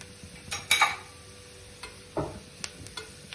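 Chicken pieces frying with garam masala powder in a pan for Kundapura chicken curry, stirred with a spoon; faint sizzling under a few scraping stirs and light metallic taps, close by, with no talking.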